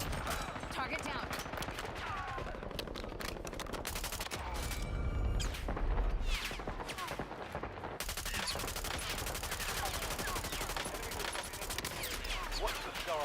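Gunfire in the video game Warzone, dense bursts of automatic fire and repeated shots rattling steadily throughout, fairly close, with a voice talking now and then beneath.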